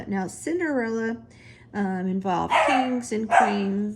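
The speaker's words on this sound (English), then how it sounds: "That's my dog" Sophie, a pet dog, gives a few quick barks and yips from the room while a person keeps talking over them.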